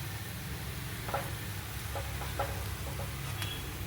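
Chhana koftas fry in hot oil with a steady, low, close sizzle. A few light utensil clicks and taps sound above it.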